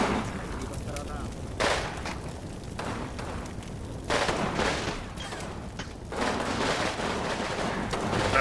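Bursts of gunfire strike a mortar position in the WWII tactics game Combat Mission: Red Thunder, as repeated loud volleys and impacts roll in at roughly two-second intervals over a steady battlefield din, with speech likely mixed in.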